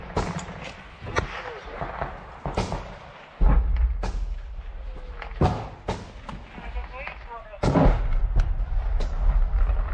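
Rifle gunfire in Ukraine combat footage sounds as sharp, loud cracks and thuds in irregular bursts over a rumbling background, with people talking throughout.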